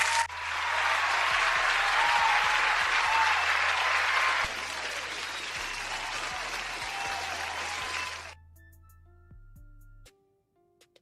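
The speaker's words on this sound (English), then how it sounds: "Everybody give him a big fat round of applause." Applause from a livestream audience, a steady broad wash of clapping that holds for about eight seconds, drops partway through, then ends abruptly. Low synthetic tones pulse underneath.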